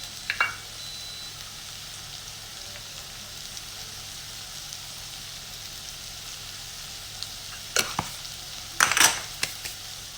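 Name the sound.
potatoes cooking in a frying pan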